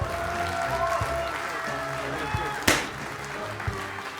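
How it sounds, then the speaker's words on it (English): Applause rises from the audience at a Clash Royale tournament finals in Helsinki as a guest is called on stage. Clapping runs under music and stage sound, with one sharp bang partway through. "Ladies and gentlemen, a round of applause"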